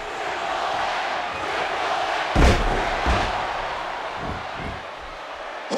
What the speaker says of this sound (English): Both superstars getting support from the crowd now. It's deafening here.